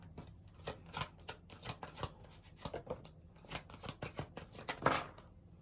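A deck of tarot cards shuffled and cut by hand, giving soft, quick riffling flutters and light card slaps, faint and close, with no talking.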